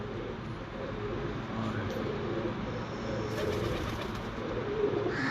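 A breeder pigeon of the Kuen breed coos low under a steady loud background rumble, its calls blending into the constant noise throughout.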